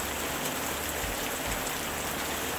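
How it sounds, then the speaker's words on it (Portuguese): Steady rain falls continuously, a dense even hiss of drops on a surface with no pauses. The sound is moderately quiet and there is no talking. "Ao mergulhar no som da chuva"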